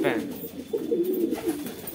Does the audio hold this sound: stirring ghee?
no